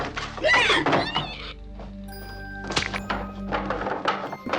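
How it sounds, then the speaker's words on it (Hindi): A door in a horror film is slammed shut with a heavy thunk, followed by thuds and rumbling movement in a tense scene, loud and close. "उसके बाद वो गुस्से में दरवाजे को बंद कर देता है।"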